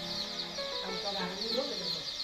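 Dense chorus of chicks peeping continuously in a brooding pen on a poultry farm holding 1,600 young birds, steady overlapping high chirps throughout, fairly close.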